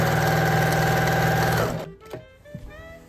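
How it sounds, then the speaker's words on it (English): A sewing machine runs steadily, stitching the side seam of a pair of jeans for about a second and a half, then stops, leaving a few faint handling clicks and knocks. "Now I'll be sewing the other side."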